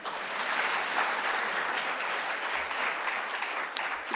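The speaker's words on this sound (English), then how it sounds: "I normally get a clap here" Audience at an innovation talk clapping on cue, a steady wash of applause at moderate loudness lasting a few seconds without talk over it.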